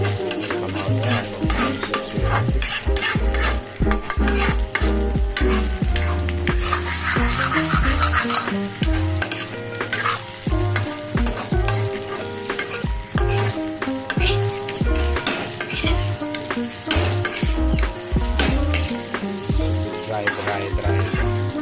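Egg fried rice with soy sauce, hot sauce and vinegar stir-fried in a pan at home: loud, continuous sizzling with constant scraping and stirring of a utensil against the metal, no talk.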